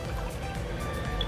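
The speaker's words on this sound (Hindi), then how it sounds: "पानी हम वही ऐड करेंगे जिसमें हमने चने उबाले थे।" Boiled chickpea water being poured into a cooking masala for chana pulao, a steady liquid pour and splashing wash that runs through the whole short moment without any talk.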